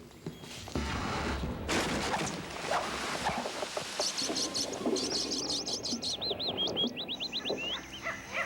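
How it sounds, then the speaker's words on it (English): Outdoors, a mix of birds gives chirping warning calls, quick repeated tweets and sharp whistled notes with some cooing, fairly close over a busy background rustle. "These other birds are just kind of warning the others."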